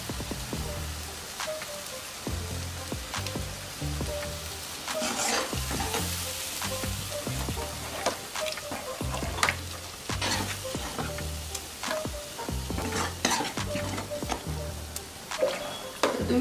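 Chicken masala for a Kolhapuri chicken curry sizzles and is stirred steadily in a pan, with repeated scraping strokes of a spoon over a continuous close frying hiss.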